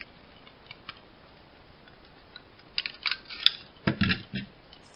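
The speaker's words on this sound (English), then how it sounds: "You can use your scissors to do this" A few quiet clicks, then a cluster of sharp scissor snips close by, cutting through thin wire insulation.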